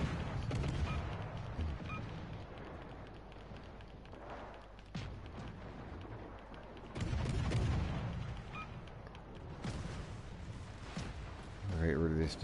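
Warship secondary guns in a naval combat video game fire in bursts of sharp booms, with a few heavy blasts standing out against rumbling battle noise while someone talks over the action.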